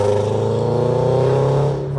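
A 2022 Toyota GR86 engine drones steadily from inside the cabin while driving, a loud low hum that eases slightly near the end.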